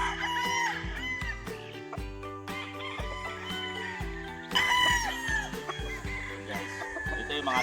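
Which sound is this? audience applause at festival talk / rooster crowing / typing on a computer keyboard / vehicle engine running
rooster crowing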